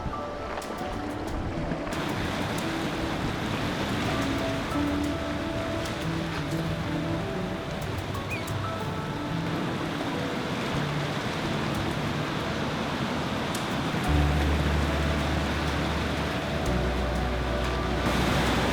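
Ocean swell at high tide on a rugged coastline, with a steady wash of surf and rumbling waves close by, broken by a low engine-like drone near the end, no talk.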